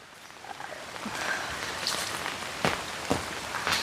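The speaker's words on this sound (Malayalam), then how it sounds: "ആ സമയത്താണ് ഇങ്ങനെ നല്ലൊരു മഴ വരുന്നത്." Rain comes down in a Kerala garden during the rainy season, a soft continuous patter that gradually grows louder, with a few sharper nearby drops or splashes toward the end and no voices.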